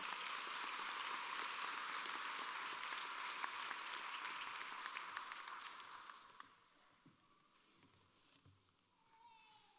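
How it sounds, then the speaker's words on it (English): A commencement ceremony crowd at the American University of Antigua College of Medicine claps to welcome Mr. Neil Simon to the podium, a dense sustained round that thins and fades out after about six seconds, with no talk. "please welcome Mr. Neil Simon to the podium with a round of applause"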